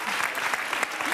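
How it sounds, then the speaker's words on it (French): Applause from a studio audience on a French television show, a brief burst of dense, close clapping from many hands. "Mais venez applaudir aussi."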